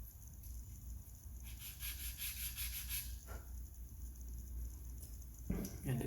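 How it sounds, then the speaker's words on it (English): Wooden base pieces of a police box model sanded by hand into the corners, a steady close rubbing and scraping that runs throughout with short bursts of sharper strokes. "I'm just going to very carefully sand and angle into the corners."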